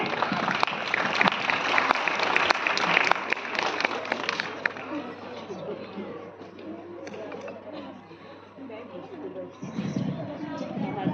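Loud audience applause at a Christmas Eve church gathering held by a Baptist church in Delhi, greeting pastors called to the stage, with dense clapping and crowd chatter that fades somewhat midway, then swells again near the end.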